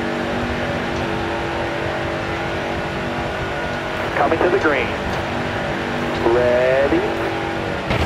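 Race cars roaring as they accelerate at the green flag of the JEGS 200, a steady engine drone with a few rising surges, under a commentator's voice.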